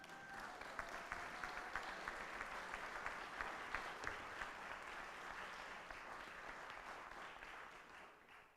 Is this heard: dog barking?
no